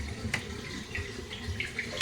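Water splashes and pours in short bursts during hand washing of clothes, including blouses and pants, at a sink or tub, with a couple of sharper splashes near the end and steady trickling underneath.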